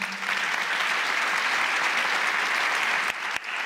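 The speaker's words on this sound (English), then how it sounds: "Please give a round of applause to our panelists." An audience at a climate adaptation conference plenary applauds its panelists, a dense, sustained clapping that stays loud and even for a few seconds before thinning out.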